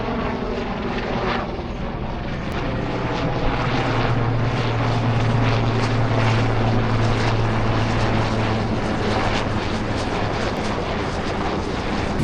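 A helicopter passes overhead at Bekal Fort in Kerala. Its engine and rotor make a loud, continuous droning hum with a steady low tone that swells slightly midway. No speech.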